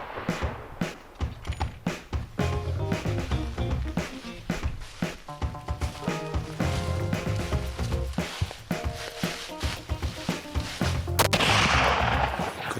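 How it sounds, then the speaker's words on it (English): A rifle shot fired while hunting in thick African bush, one of several sharp cracks standing out among busy, dense background sounds over about thirteen seconds. "That was a good shot."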